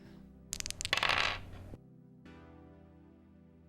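Dice tumbling in a dice-roll app: a short burst of rattling clicks building to a bright clatter that stops abruptly, followed by a quieter, sustained tonal background.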